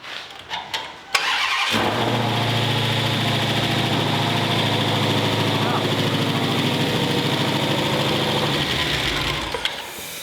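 A few clicks, then the engine of a 2018 Dodge Challenger Hellcat Widebody with an oil leak cranks and catches, settling into a loud, steady idle that runs close up for several seconds.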